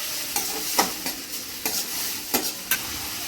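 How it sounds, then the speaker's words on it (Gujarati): Grated onion sautéing in oil with curry leaves and ginger-garlic-chili paste crackles under a steady sizzle, punctuated by about seven sharp, close spatula knocks and stirs. "તો આ ડુંગળીને પણ આપણે થોડી વાર સાતળશું આમ જ"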